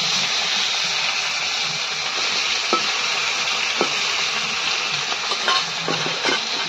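Bata fish sizzling in hot oil in a Bangladeshi home kitchen, a steady broadband crackle and hiss throughout with occasional sharper pops and a few light clinks, close and fairly loud with no talking.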